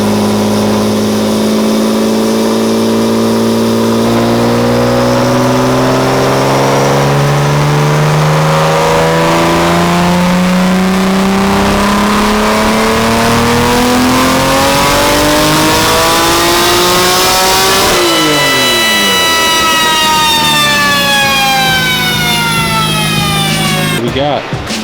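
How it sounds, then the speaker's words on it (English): A built Nissan Skyline R32 GTR engine revving under load on a dyno, a loud continuous roar whose pitch climbs steadily through a long pull, drops briefly, then climbs again before cutting off, with no voices over it. "we're gonna do some slow revs and pulls, and then we're gonna try to make some decent pulls"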